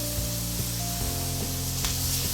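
Garlic frying in a pan with softened vegetables for meatless TVP sloppy dogs, a continuous moderate sizzle under a low steady hum, with no talking.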